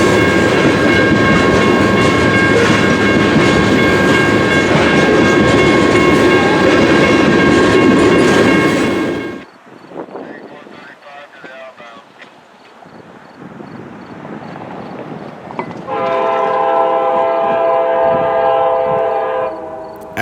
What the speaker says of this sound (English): a green is lined through for a northbound BNSF. It's Kansas City to Wilmer manifest